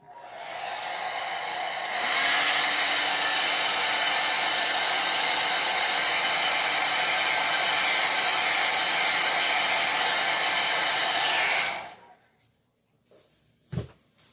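A hair dryer blows loudly and steadily for about ten seconds, drying Chalk Couture paste on a Halloween stuffed toy, then switches off, leaving a few quiet knocks.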